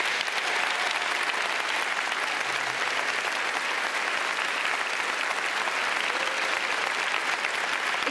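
Audience applause at a televised classical music event fills the space as a dense, loud, continuous roar of clapping hands from a large crowd, sustained evenly without pause.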